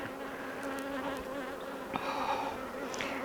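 Honey bees buzz around an open hive being inspected on the first day of spring, a dense, steady droning hum with individual bees passing close now and then.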